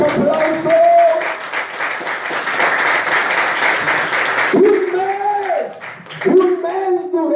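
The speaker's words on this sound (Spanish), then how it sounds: "Denle un fuerte aplauso" A church congregation gives a loud round of applause during a Christian sermon, a dense burst of clapping lasting several seconds before a voice speaks over its fading end.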